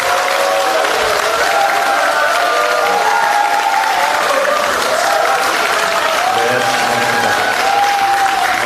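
Applause from a large audience fills a party launch ceremony, a loud, dense and continuous wash of clapping from a packed hall that stays steady throughout with faint crowd voices mixed in.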